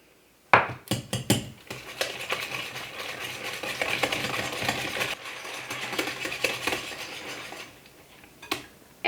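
An egg is added to butter and sugar and mixed in with a utensil. A few sharp clinks against the bowl open a run of steady scraping and stirring, close by, and a final knock ends it.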